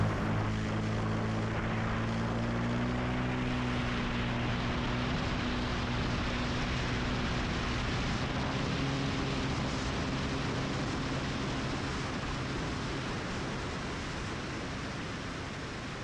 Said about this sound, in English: we're going to jump back in the plane to fly back to Melbourne.